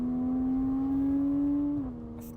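A modified Porsche 987.2 Cayman S with its 3.4 DFI flat-six holds a steady, loud tone close by, then dips in pitch near the end as the revs drop; no talking.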